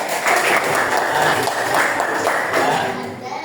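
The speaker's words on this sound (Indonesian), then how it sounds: "Boleh tepuk tangan." Children in a classroom clap together in a dense, steady burst that stays loud throughout, with a few voices mixed in, fading slightly at the end.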